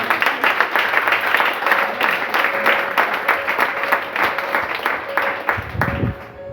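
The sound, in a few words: congregation applauding in church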